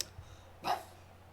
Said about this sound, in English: No woofing.